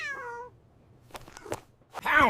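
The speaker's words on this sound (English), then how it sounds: "Meow." A cat gives a clear, drawn-out meow near the start, then a louder, rising meow after a short pause.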